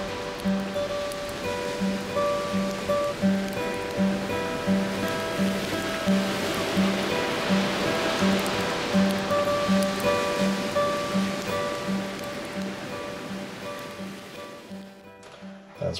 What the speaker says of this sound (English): Pretty nice having the campfire on the beach like that with the big waves crashing in the background